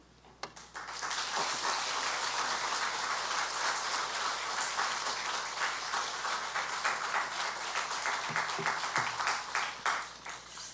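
A church congregation gives the pastor a big welcoming round of applause, dense steady clapping from many people that swells after a second and holds for about ten seconds before thinning slightly at the end.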